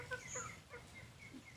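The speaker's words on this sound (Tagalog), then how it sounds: "Tatlong manok, dalawang babae at isang lalaki." Three backyard chickens, two hens and a rooster, cluck softly in a quiet series of short, faint calls close by, with no voices over them.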